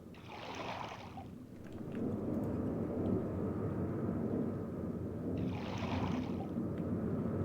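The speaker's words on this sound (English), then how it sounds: "Sounds like there's always an airplane overhead." Low, continuous drone of an airplane passing overhead in the video game Myst, a steady rumble that swells and stays loud, with brief whooshing bursts near the start and end.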